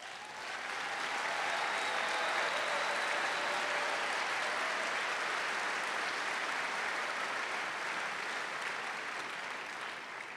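An audience gives sustained applause for university faculty standing at a lecture event, a dense, steady wash of many hands clapping at even loudness throughout, with no speech over it.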